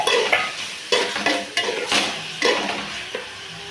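Onion and tomato with salt sauté in a pan, a spatula stirring and scraping in several distinct strokes over a soft sizzle, close and fairly loud.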